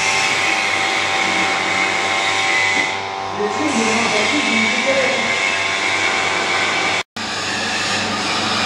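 A vacuum pump runs steadily as it pulls a vacuum on a refrigerant system, a continuous droning hum with a low harmonic tone, loud and near, broken by one short cutout near the end.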